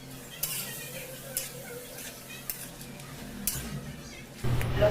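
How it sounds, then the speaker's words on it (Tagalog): Chicken adobo ingredients with pepper stirred in a pan, soft scraping with periodic utensil knocks against the pan over a low sizzle, ending in a louder clatter. "At pagkatapos ay haluin lang natin mga idol upang magsama-sama ang ating mga ingredients."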